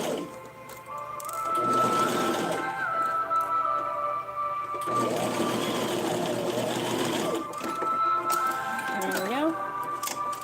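A sewing machine stitching a small doll outfit runs in long steady whirring stretches up close, slowing and restarting between seams, with a person speaking briefly near the end.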